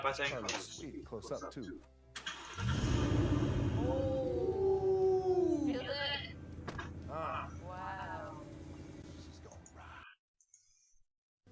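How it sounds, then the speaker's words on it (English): A 2018 Ford Mustang engine cranking and catching, then settling into a loud, steady idle with a rising whine, close by, with people talking over it before it cuts off. "that was the sound of the new motor"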